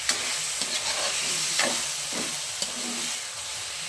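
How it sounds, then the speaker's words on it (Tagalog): Chicken sautés with onion and garlic in a pan, giving a steady sizzle and hiss throughout, broken by a few light stirring scrapes and clinks. "ginisa ko na siya sa sibuyas bawang"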